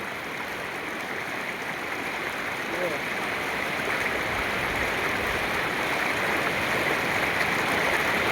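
A flooded river runs full to its banks, producing a steady, loud broadband rush of flowing water that continues unbroken throughout.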